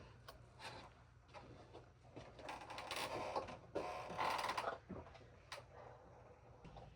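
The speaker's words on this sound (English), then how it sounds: "you can hear the floor creak, and it's magical" Old wooden floorboards creaking underfoot on the upper floor of a used-book barn, faint scattered creaks and ticks with a longer grinding stretch in the middle, quiet and close.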